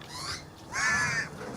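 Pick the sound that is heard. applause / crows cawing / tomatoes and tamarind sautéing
crows cawing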